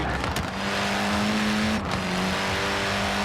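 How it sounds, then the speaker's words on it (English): Hoonigan Ford Focus RSRX in Forza Horizon 4, its engine holding a loud, sustained high-revving drone, dipping briefly as if shifting, then climbing again with slight crackle. "listen to that engine"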